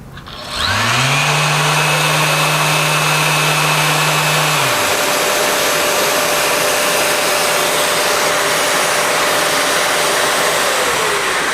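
A power sander for sanding epoxy spinning up to 9,000 RPM, with a loud, steady motor whine whose pitch rises at start-up, holds, then shifts while the broad whirring hiss continues throughout.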